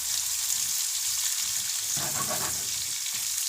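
Chopped onion sizzling and crackling steadily in a hot pan with shrimp and garlic, a dense continuous fry with a brief burst of stirring, close and fairly loud, no talking.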